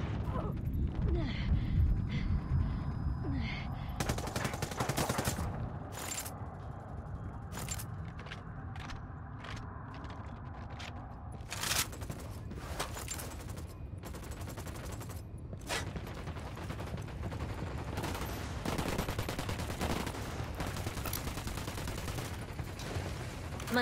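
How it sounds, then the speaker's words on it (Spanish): Gunfire in the video game Ghost Recon Wildlands during a bank heist mission: rapid automatic bursts and single shots crack repeatedly over a dense rumbling battle background, loud and continuous. "Los disparos vienen del banco."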